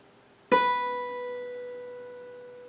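An open first string on an acoustic guitar is plucked once, ringing out clearly and decaying slowly with nothing else playing.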